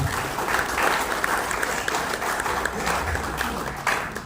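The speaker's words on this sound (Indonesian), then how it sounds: "Tepuk tangan buat kita bersama." Applause at a community forum meeting held in a local government office, a steady wash of clapping from a seated crowd, fairly loud and even throughout with small surges.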